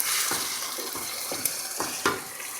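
Chopped fresh tomatoes hit a hot pan and sizzle steadily, with a few soft stirring scrapes and light clinks close by, no voices over it.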